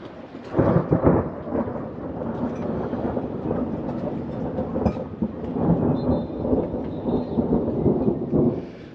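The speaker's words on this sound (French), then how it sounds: "Il y a de l'orage dans l'air." Thunder rumbles steadily through a storm over Majorca or Minorca, a broad, continuous low roll with heavier swells near the start and end, heard outdoors with no talk.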